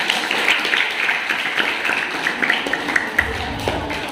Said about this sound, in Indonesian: Tepuk tangan buat orang hebat.